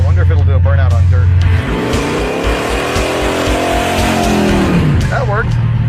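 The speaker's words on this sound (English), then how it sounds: "I wonder if it'll do a burnout on dirt." The Draguar, a car running without its blower belt, does a burnout on dirt. The loud, close engine revs up and holds a rough, rising roar with wheelspin for several seconds before dropping back to a lumpy idle.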